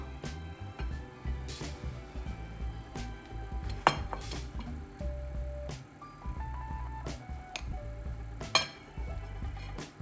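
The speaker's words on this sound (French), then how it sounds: "Donc le riz je vais servir le riz." White rice being served into a bowl, with repeated clinks and taps of a utensil against dishware and scraping of a pot, moderately close and steady with a few sharper knocks.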